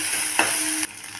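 Shallots, tomato, ginger, garlic, dried chillies and turmeric sautéing in hot oil for drumstick-leaf soup, a steady close sizzle with a brief stirring scrape partway before the frying noise drops away.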